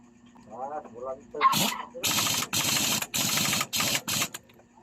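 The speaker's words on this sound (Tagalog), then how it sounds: "Saka natin gamitan ng air impact wrench." An air impact wrench tightens the castle nuts on a Honda Wave 100 during clutch work in a motorcycle shop, sounding as a loud series of short, rattling bursts with brief gaps between them, close to the microphone, after a few words of talk.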